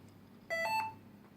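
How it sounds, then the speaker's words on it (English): A single short electronic beep sounds once from a computer at startup, faint and alone against a quiet background hum. "Okay, there's one beep"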